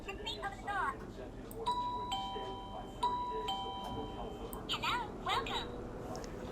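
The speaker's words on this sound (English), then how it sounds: "So we are testing it and set them for each doorbell." Two electronic chime tones from a Physen wireless doorbell ring out in sequence, a clear ding-dong melody, with quiet voices murmuring before and after.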